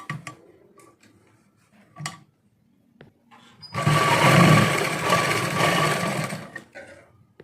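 A sewing machine runs a steady burst of stitching along a trouser waistband, loud and close for about three seconds, preceded by faint handling clicks and rustling.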